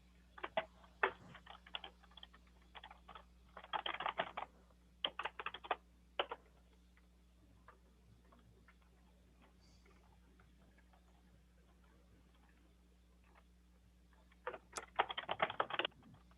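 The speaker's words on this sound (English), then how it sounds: "Thank you so much, you guys, for keep typing." Computer keyboards clatter in bursts of rapid typing during an online community steering committee meeting, with quiet pauses between flurries and a steady low hum underneath.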